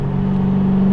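An LS V8-swapped Mazda RX-7 FD engine holds a loud, steady rumbling drone with a faint throttle rise, close and unbroken, with no talk over it.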